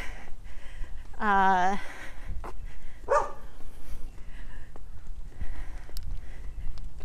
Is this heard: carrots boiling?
no